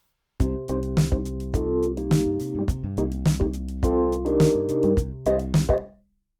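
Electric piano chords and bass notes, hard panned to one side, play in a short phrase, clear and close, then stop abruptly.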